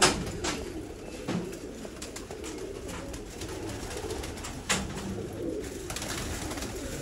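Champion Sialkoti pigeon cooing close by, soft repeated low coos over a rooftop loft background, with a few sharp flutters and knocks scattered through; no talking.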